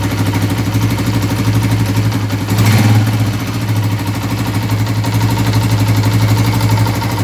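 Honda CG125 motorcycle engine running at raised revs, giving a loud steady close drone with a brief swell in the middle, with no voices.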